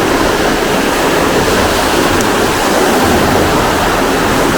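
Water rushes through a canal lock gate at Bratch Locks in the UK, a loud, close, unbroken roar of churning flow that holds steady throughout with no voices.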